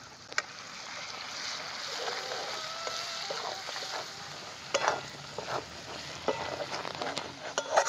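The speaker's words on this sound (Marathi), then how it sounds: "आता मसाला चांगला तळून घेतला मी" Homemade spice masala of dhangari whole spices, peanut powder and red chili fried in a pan, a soft continuous sizzle with scattered clinks and scrapes of a stirring spoon.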